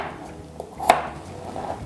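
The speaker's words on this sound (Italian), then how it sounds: "prendiamo il nostro aglio, lo tagliamo giusto in 2 parti" A knife cuts a garlic clove in two, giving a single sharp tap against the board amid faint kitchen background.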